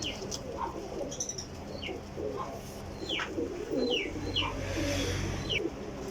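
Flying pigeons, Parwazi kabootar, coo in low murmurs among scattered sharp chirps and a brief flutter of wings, fairly close in a busy loft with no one speaking.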